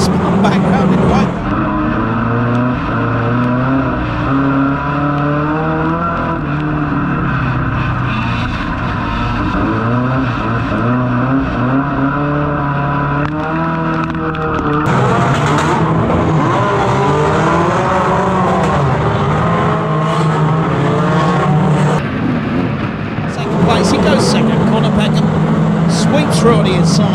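Unlimited banger racing cars roaring around a track at the Mildenhall Bangers Supreme event, loud continuous engine drone with rising revs and impacts, under constant excited commentary.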